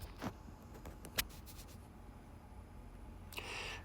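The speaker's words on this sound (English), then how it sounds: "That's a page turn like on a regular paper book." A simulated paper page-turn effect from the Kindle reading app: faint scratchy ticks and light rubbing, then a soft swishing sweep near the end, quiet and close, with no voices.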